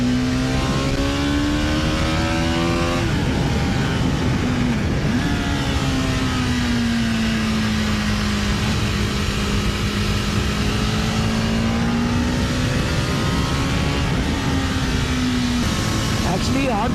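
Superbike engine on a race track, revving loud and close with a steady rising and falling whine that dips briefly and climbs again over about seventeen seconds, continuous throughout.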